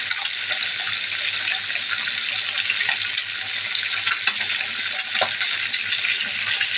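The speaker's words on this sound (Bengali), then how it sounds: "পাঙ্গাস মাছটা ভাজতে গেলে একটু সাবধান কারণ পাঙ্গাস মাছের প্রচুর তেল থাকে এটা তেল ছিটে" Pangas fish frying in hot oil in a pan gives a steady, loud sizzle with dense crackling spatter throughout, with no talk over it.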